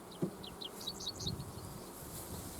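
Honey bees buzz around a hive, a faint, steady hum with a few brief higher passes of individual bees flying close by.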